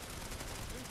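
Dense, continuous gunfire fills the moment in the sci-fi shooter Planetside 2, a steady wash of rapid shots with no clear gaps between them.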